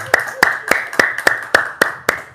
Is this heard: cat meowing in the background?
no